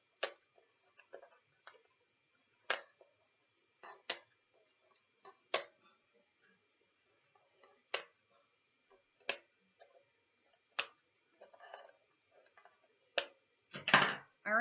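Scissors snip deco mesh tails off a ruffle flower on a board, sounding as sharp isolated clicks spaced irregularly across a quiet room, close and faint, with a louder cluster of snips near the end.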